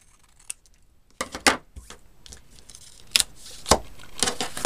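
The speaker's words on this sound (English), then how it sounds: "we're going to trim this edge off with our scissors" Scissors snip paper in a series of short, crisp cuts, close by and irregularly spaced, with no talking.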